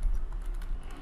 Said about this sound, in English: So we're gonna type right here into the upper right corner,